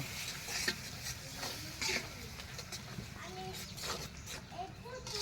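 Onions stir-frying in a pan for Bangladeshi-style fish bhuna, a steady soft sizzle with occasional stirring scrapes throughout, with a voice talking faintly in the background.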